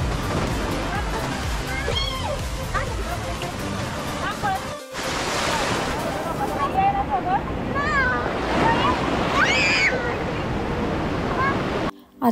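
Sea waves wash onto a Puerto Rico beach in a steady broadband roar, with wind buffeting the microphone and voices and high squeals heard over the surf.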